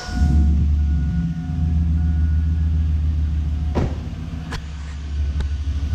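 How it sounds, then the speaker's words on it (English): A 1999-2007 Chevy Silverado or GMC Sierra pickup engine idles with a deep, steady low rumble close by, broken by a few sharp clicks and brief bursts, the hum continuing throughout without speech. "so we're going to start the truck"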